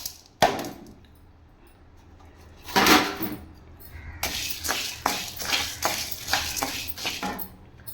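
Chana dal tipped into a pan and stirred while making paruppu podi: a sharp clatter as the lentils drop in, then repeated scraping and rattling strokes of a spoon against the pan, fairly close.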